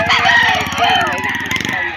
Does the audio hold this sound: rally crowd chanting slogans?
no